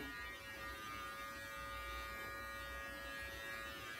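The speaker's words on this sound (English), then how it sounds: "Once again, I'm using the Brio Beardscape Beard Trimmer" Close, steady electric buzzing of a Brio Beardscape beard trimmer fitted with a 15 mm attachment as it cuts beard hair, a continuous faint hum with no talking.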